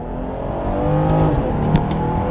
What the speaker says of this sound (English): it's a new day behind the wheel of the X5. I have it in sport mode